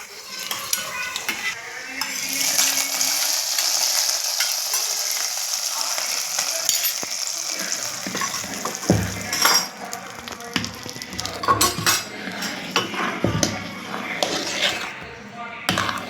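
Rice payasam is stirred in a pot with fried grapes mixed in, giving close metallic spoon scrapes and light clinks over a soft sizzle, while a person talks intermittently.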